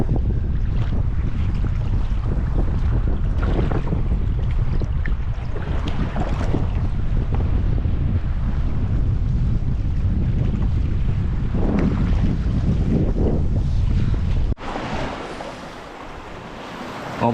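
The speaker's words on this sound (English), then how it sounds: "We're getting banged up out here. The waves are really choppy." Strong wind and choppy waves on a lake buffet a canoe during a crossing ahead of a storm: a loud, constant rush of wind noise and splashing water that drops sharply near the end, with no talk.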